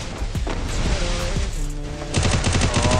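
Bursts of gunfire in the Free Fire battle game crackle close and loud, with scattered shots early and a fast rapid-fire volley in the last second.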